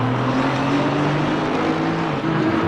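GT3 race cars in Assetto Corsa Competizione at the Nürburgring, engines droning in close pursuit with steady, near, overlapping whines that shift pitch slightly as they run side by side toward turn 1.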